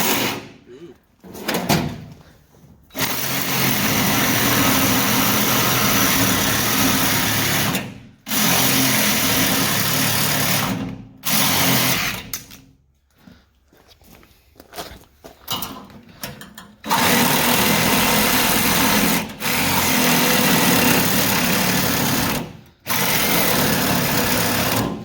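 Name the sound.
grinder chasing a weld on an off-road tool cart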